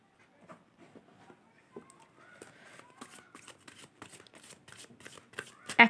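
Playing cards shuffled during a tarot-style card pick reading, a run of soft rapid riffling flicks building toward a louder final burst, close and fairly quiet with no talking over it.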